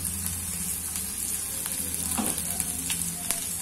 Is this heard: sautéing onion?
yes